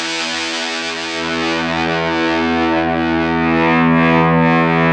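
A thick, sustained electric guitar chord through a Lil Trees Guitar Co. Velvet Ant Fuzz pedal, a dense buzzing wall of sound that swells slightly louder and rings on without a break.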